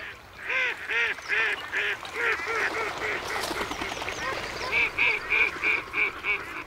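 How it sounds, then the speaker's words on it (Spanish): A flock of ducks quacking in repeated, rhythmic bursts, several birds calling over one another at close range with no voices. "Parpan todos los miembros de la tribu de los patos."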